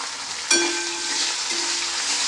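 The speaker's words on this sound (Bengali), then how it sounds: "এর মধ্যে এবার দিয়ে দিচ্ছি কেটে রাখা পেঁয়াজ" Chopped onions hit a pan over low flame with a sharp burst of sizzling at half a second, then a steady, loud frying hiss that continues without voices, for an egg curry.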